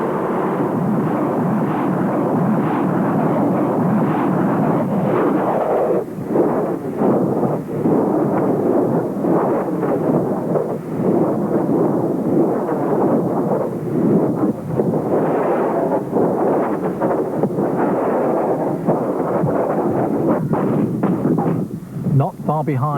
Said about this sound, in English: the multiple launch rocket system, the battle winner the troops call this, capable of firing ripples of 12 rockets